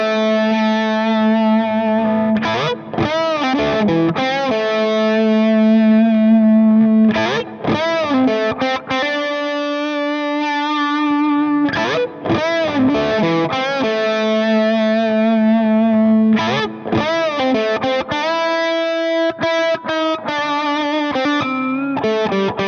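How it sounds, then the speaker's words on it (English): Les Paul electric guitar played through distortion with chorus and effects, sustained chords and bent notes ringing loud and saturated, with bursts of picked runs between held tones. "The Les Paul has a unique feeling and sound. It's always rich and warm, even with clean sounds."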